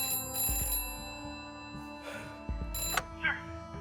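A telephone rings in the night, heard as two distinct rings with a pause between them, fairly faint, over low background hum.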